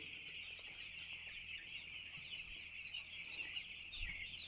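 A flock of six-day-old chicks in a poultry shed cheeping and chirping continuously in a steady high-pitched chorus, with faint low rumbles and occasional knocks in the background.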